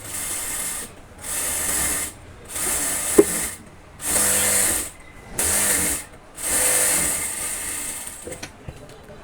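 A sewing machine stitches pants in repeated bursts, each whirring run lasting about a second before pausing, close and loud, with faint clicks between runs.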